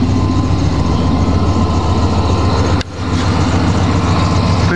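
A GMC Sierra pickup with a MagnaFlow high-flow cat and 3-inch exhaust idles after a cold start, a loud, steady low rumble with a brief dip near the end before the drone resumes.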